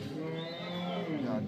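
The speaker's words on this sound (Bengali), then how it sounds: "দেশি গরু" A native-breed cow at a livestock health inspection gives one drawn-out moo, close and clear, that bends in pitch across its length.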